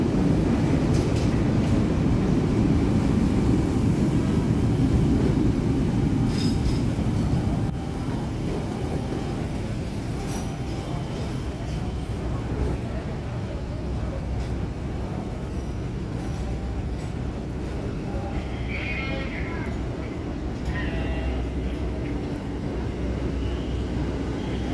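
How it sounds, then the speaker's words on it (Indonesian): A Bogowonto passenger train pulls into track 2 at a station, a steady low rumble and rolling rail noise that stays loud and continuous throughout, easing slightly after the first few seconds. "Jalur 2 ini masuk kereta api Bogowonto keberangkatan dari stasiun Lempuyangan dengan tujuan akhir yaitu stasiun Jakarta Pasar Senen."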